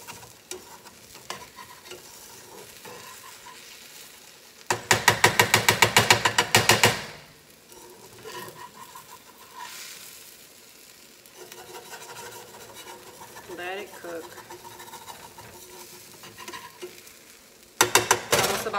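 Chickpea batter cooking in a pan as a scramble, with a low steady sizzle and two loud bursts of scraping and stirring, one lasting a couple of seconds and a shorter one at the end.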